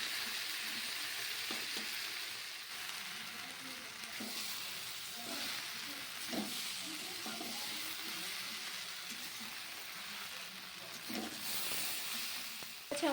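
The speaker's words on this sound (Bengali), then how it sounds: "আমাদের ভাজা প্রায় কমপ্লিট হয়ে গেছে" Fish head and mixed vegetables fry in a pan with a steady, close sizzle, broken by occasional clinks and scrapes of stirring throughout.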